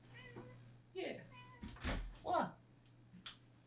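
A house cat meows several times, close and clear, the short calls spaced out between a man's quiet remarks, with a faint knock in the room.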